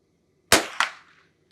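Two sharp rimfire shots crack from a Henry H001 lever action rifle, about a third of a second apart, loud and close outdoors, each fading quickly.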